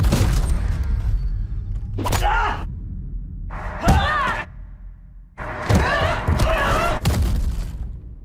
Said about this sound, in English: Why don't you just kick in the door?